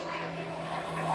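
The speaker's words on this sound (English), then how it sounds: "Oh, let this plane fly by. That's one of the, that's a Mitsubishi." A Mitsubishi cargo plane that flies to the islands passes overhead as a steady, moderately distant engine drone with a constant low tone near a boat setting.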